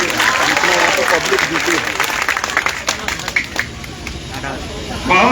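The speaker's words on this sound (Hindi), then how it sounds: "जोरदार ताली बजा करके स्वागत करते हैं" A large audience at a political rally in India claps loudly to welcome a speaker, a dense burst of applause that breaks into scattered claps and crowd murmur before swelling again at the end.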